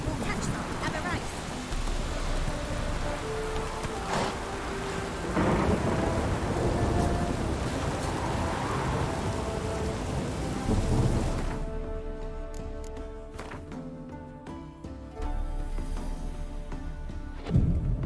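Heavy rain and rolling thunder fill a storm scene in the video game The Witcher 3, a steady downpour with deep rumbles. The storm thins after a while, and a voice speaks over the quieter rain.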